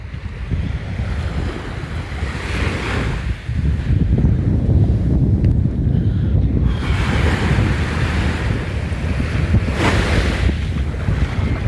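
Atlantic Ocean waves and surf near high tide roll and crash continuously close by, a loud broadband wash with swelling breakers and heavy wind buffeting the microphone, no voices.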